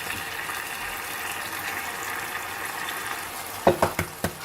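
Vegetables stir-frying in a pan for Chinese egg fried rice, a steady sizzle throughout, followed near the end by a few sharp knocks of a utensil against the pan.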